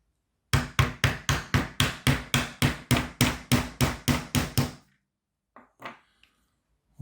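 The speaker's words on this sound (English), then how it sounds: "Hammer time." Fifteen sharp, evenly spaced hammer blows tap a printed part down into place on a pink tractor, loud and close, then stop, followed by a couple of faint scattered knocks.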